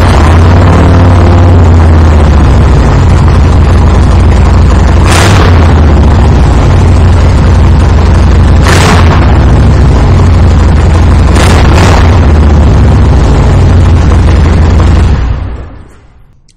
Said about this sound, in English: fire this bike up so you can hear that Vance and Hines ground pounder